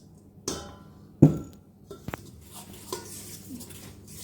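A spoon stirs cheese into a dish, giving sharp metal-on-dish clinks and scrapes in a few scattered bursts over quiet background, close up and without talk.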